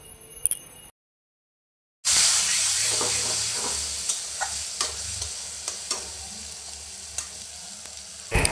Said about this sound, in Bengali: সব একসাথে দিয়ে একটু ভালো করে পেস্ট, মানে একটু মশলাটা ভাজা ভাজা করে নেব